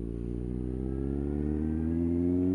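A vehicle engine hums steadily with a low droning tone that gradually rises in pitch, as if slowly revving, continuous throughout.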